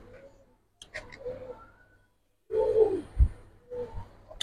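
Khaki pigeons from Kamrangirchar cooing nearby, low soft coos in short bursts with gaps of quiet and some background noise.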